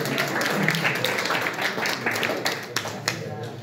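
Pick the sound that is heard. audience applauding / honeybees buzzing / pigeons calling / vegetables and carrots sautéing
audience applauding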